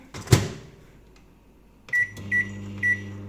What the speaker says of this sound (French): je vais aller le mettre au micro-ondes, on va aller faire chauffer le lait